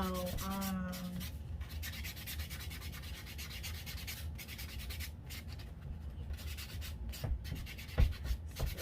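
Steady dry rubbing of a buffer across a fingernail during a nail application, a continuous close scratchy friction with a brief tonal hum near the start and a couple of sharper scrapes toward the end.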